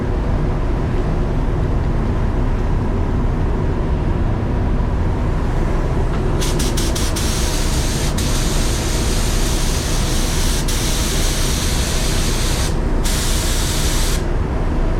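Spray gun laying clear coat on a car's front bumper: a steady, loud hiss of atomized spray running continuously, with brief on-off bursts as the trigger is released and pressed again toward the end.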